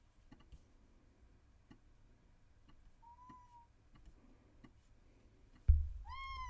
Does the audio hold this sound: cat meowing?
yes